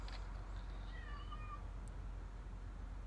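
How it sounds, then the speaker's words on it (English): A cat meows faintly somewhere nearby in a garage during Mercedes E320 engine work, one drawn-out mew rising and falling over steady low background rumble. "I hear the cat, but I don't see the cat."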